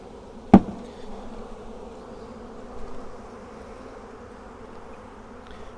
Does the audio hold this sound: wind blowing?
no